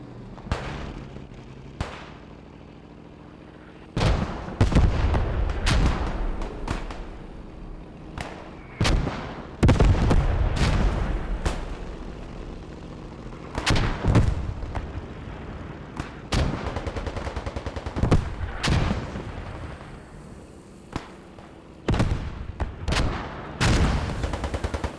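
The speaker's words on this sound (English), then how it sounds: "Again with the SMGs, taking out, I think it was that ZB-26." Heavy gunfire in a video game battle with SMGs and a ZB-26 machine gun: repeated loud sharp bursts and single shots, some in rapid clusters, sounding near and far across a steady low rumble of battle.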